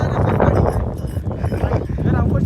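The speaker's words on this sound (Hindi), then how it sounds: "एक ये जोड़ी घोड़ा है भाई" A pair of horses clip-clops on a mountain path at Ratti Gali in Kashmir, the steady hoof beats running continuously beneath loud, busy outdoor chatter from people nearby.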